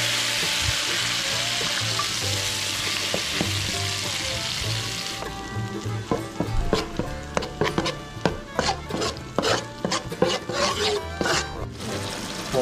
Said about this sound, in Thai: ขั้นตอนที่1นะครับเราจะผัดพริกแกงมัสมั่นก่อนนะครับ